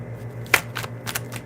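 Tarot cards being shuffled by hand, a few quick crisp riffles and slaps spaced across a short moment, close and clear in a quiet room.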